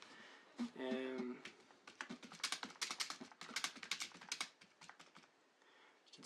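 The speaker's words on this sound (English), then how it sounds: "can see I'm typing, I've made a mistake there." Rapid clicking keystrokes on a Jelly Comb wireless computer keyboard, irregular bursts of taps close by, with a brief voice near the start.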